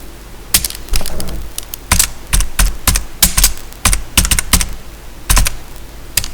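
Close, loud typing of code on a computer keyboard: bursts of quick key clicks separated by short pauses, some keys struck harder, with no talking.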